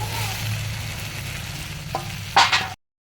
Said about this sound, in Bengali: এই কুলটাকে ভালো করে নাড়াচাড়া করব।